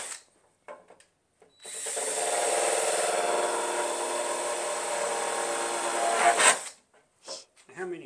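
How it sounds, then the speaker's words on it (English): A power drill runs steadily for about five seconds with a high whine, drilling drainage holes in the bottom of a planter, starting and stopping abruptly, with brief voices before and after. "We're going to have to drill some holes in the bottom for drainage."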